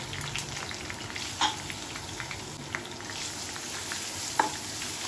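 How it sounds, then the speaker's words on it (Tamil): Shallots, garlic, dried chillies and tamarind being sautéed for Karaikudi chutney, a quiet steady frying hiss with a few light spoon taps. "சின்ன வெங்காயம், பூண்டு, காஞ்ச மிளகாய், புளி போட்டுக்கலாம்."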